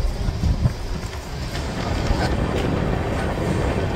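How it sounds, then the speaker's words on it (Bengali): Inside a quiet general coach of the Gour Express, a steady rumble of wheels and rushing wind fills the car as the train pulls out of Nalhati station, with a few faint knocks and no voices. "এই যে আমাদের ট্রেন নলহাটি স্টেশন ছেড়ে বেরিয়ে গেল"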